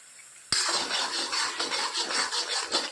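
Boiled chickpeas dropped into hot oil burst into a sudden loud sizzle about half a second in, then keep up a steady, dense crackling hiss with no voices.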